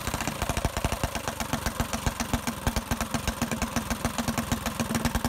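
A small engine fitted with a Tillotson carburetor idles in a steady, fast putter of even pulses, close and fairly loud with no voices.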